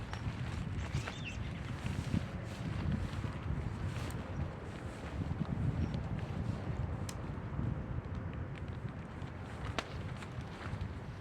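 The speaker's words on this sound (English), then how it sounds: "Even in a wind like this, I figure it shouldn't be too bad." Steady wind gusts and rumbles across an open outdoor campsite while an ultralight two-person backpacking tent is pitched, a low continuous roar of fairly faint buffeting with occasional small knocks and rustles.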